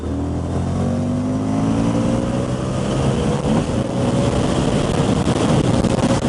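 An Indian FTR 1200 motorcycle engine runs in third gear around 4,500 rpm, a steady loud drone with rising harmonic whine as the bike pulls along, close and continuous with wind noise.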